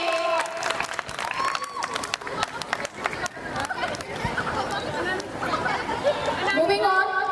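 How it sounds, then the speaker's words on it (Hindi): Audience at a women's college fest at Allahabad University claps after a performance, the applause mixed with crowd chatter and a voice talking over it, sustained and fairly loud throughout. "बहुत ही जोरदार तालियां"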